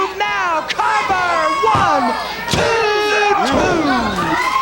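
A loud wrestling crowd at a CWF Mid-Atlantic television championship match roars and yells through a near-fall count, with rising shouts and high-pitched screams swelling continuously and a few sharp cries cutting through.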